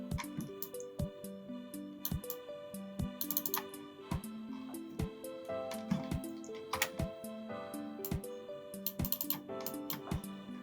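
Rapid keystrokes on a computer keyboard, crisp clicks in quick irregular bursts over a soft background music bed, close and fairly quiet.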